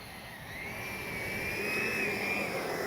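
Steady jet turbine whine from an E-flite 90mm Viper RC jet engine held at landing throttle, a continuous rising-and-leveling hiss and tone that swells slightly louder over a few seconds, heard alone without talk.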